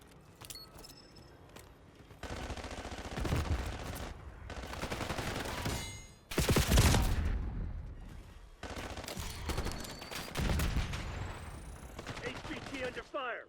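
Gunfire in the Black Ops 6 video game during a mission to take out a high-value target, with loud bursts of automatic fire in several sustained volleys and a mix of battlefield noise between them.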